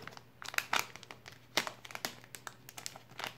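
A plastic parcel bag, sealed with a sticker and holding a flight controller, gets opened with faint, scattered crinkles and a few sharper crackles and tears close by, with no speech.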